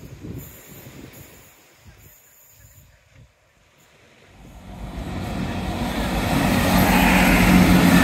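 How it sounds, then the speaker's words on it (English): A small, sedate train runs along the seawall toward Teignmouth station, its rumble swelling from faint to loud and close over the last few seconds, with no voices. "Very sedate little train making its way"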